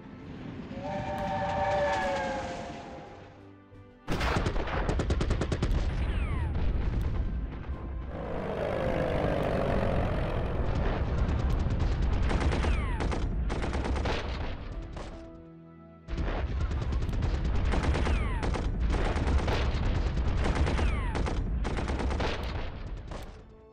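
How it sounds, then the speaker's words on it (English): Artillery bombardment in the World War I strategy game Commander The Great War: loud booming blasts and rumbling barrages over a sustained noisy din, with a sharp break midway and a whistle-like tone at the start. "We're just going to take some bombarding."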